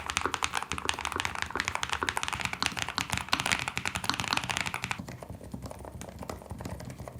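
Rapid, quiet key clicks of typing on a slim low-profile keyboard, a dense run of light taps that thins out toward the end.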